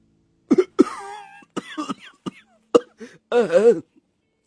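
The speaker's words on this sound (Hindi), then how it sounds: "सबका खांस खांस कर बुरा हाल हो गया।" Several people in a smoke-filled hut cough repeatedly from wood-fired clay stove smoke: sharp, close coughing bursts with throat-clearing sounds, spread irregularly across the moment.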